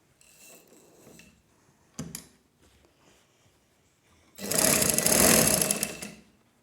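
A sewing machine runs close by, stitching a sleeve onto a baby girl's frock. There is some light handling and a few clicks at first, then a loud whirring burst of stitching for about two seconds that winds down.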